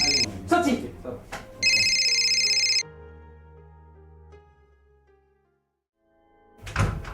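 A telephone rings with a bright electronic trill in two bursts, followed by thuds like a door or handset being handled, then near silence before a voice starts speaking.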